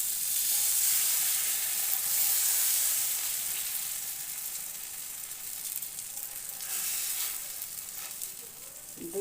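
A ladle of flour and ripe-banana batter fries in a hot pan, giving a loud, continuous hissing sizzle close up that swells and eases slightly throughout, with no talking.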